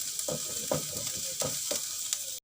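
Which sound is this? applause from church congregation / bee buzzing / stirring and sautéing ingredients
stirring and sautéing ingredients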